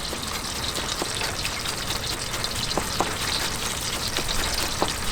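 Sanddab fish frying in a pan, a dense continuous sizzle and crackle with occasional sharper pops and a light stir, close and steady throughout, no voices.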